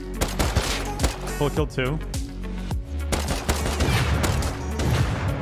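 Dense, rapid gunfire in the video game Rust, with loud overlapping shots and bursts repeating throughout while players talk over the shooting.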